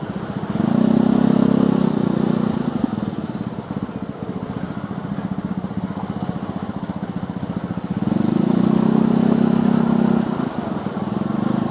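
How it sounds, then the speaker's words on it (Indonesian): A Vespa scooter rides past on a congested Bekasi–Jakarta commute, its engine droning steadily for the whole stretch and swelling louder twice as it nears, amid general road noise. "Vespa teman-teman, kencang dia ini sebenarnya ya"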